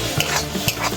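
Shrimp sautéed in a pan with turmeric and salt: a brief, close scraping stir with two soft utensil knocks over a faint sizzle, no voices.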